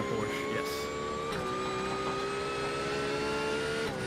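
A Porsche race car engine in the iRacing sim at Watkins Glen, a sustained high-pitched engine whine holding steady with a slight shift in pitch midway, with commentators talking over it.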